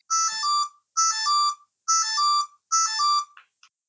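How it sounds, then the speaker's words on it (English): A Pic-o-Pocket keychain retro console sounds its alarm tone. The same bright, chirpy electronic melody plays four times in a row, with a short pause between each, clear and alone. "The alarm will go off at 7 o'clock if the clock has been synced and it is on."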